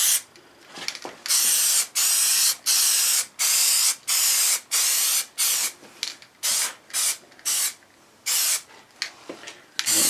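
Plastidip rubber coating sprayed from an aerosol can onto a test piece in a garage, about fifteen short hissing bursts in a steady rhythm, close and loud, with brief pauses between passes.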